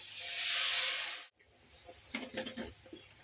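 Water from a bowl poured into a hot pan while cooking fried rice, giving a loud, steady steam hiss for about a second and a half that cuts off abruptly, followed by quieter sizzling and light pan clatter.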